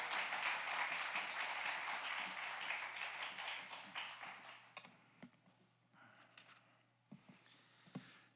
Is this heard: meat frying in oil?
no